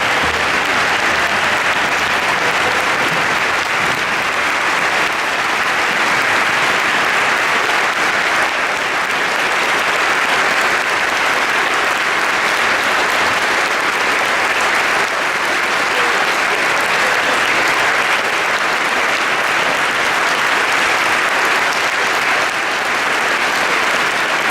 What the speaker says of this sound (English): Please join me now in a well-deserved round of applause for Lieutenant Colonel William Patrick Bonel